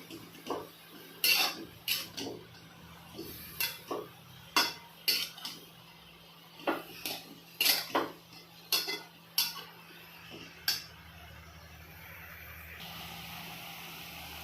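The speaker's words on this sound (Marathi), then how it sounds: "हे वाटलेले लाल मिरची पावडर टाकून द्यायची ही डाळ आहे ना आपण जे धुवून घेतली ते टाकून द्यायचे छानपैकी परतून घ्यायची भाजी" A metal spoon scrapes and clanks against a pan in irregular bursts while chopped leek and garlic greens with dal and red chili powder are sautéed, over a faint steady background hum.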